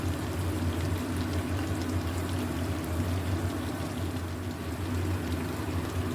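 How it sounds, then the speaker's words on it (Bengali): Rose water and kewra water poured into a simmering winter vegetable dish, a steady continuous liquid wash with low bubbling hum throughout, moderately loud and unbroken, no talking. "সামান্য গোলাপ জল আর কেওড়া জল দিয়ে দেবো।"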